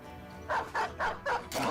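A dog in the video game Battle Brothers barks five times in a quick, evenly spaced run, each bark short and sharp, loud and close over a quiet game background.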